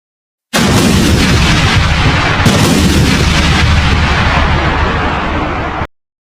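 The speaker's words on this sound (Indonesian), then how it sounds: "suara ledakan yang belum pernah didengar telinga manusia meruntuhkan segalanya" A huge atomic bomb explosion roars as one loud, sustained blast, a dense rumbling wall of noise that holds for about five seconds before cutting off abruptly.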